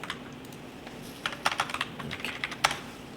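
Keys clack on a computer keyboard while hashtags are entered, a few scattered taps at first and then a quicker cluster of crisp strokes, close and fairly quiet with no talking.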